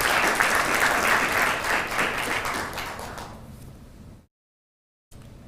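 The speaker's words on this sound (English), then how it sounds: "Another round of applause for him." Audience applause at a consultative meeting on a refugee situation in Kenya, loud and sustained for about four seconds before fading out, then a brief pause.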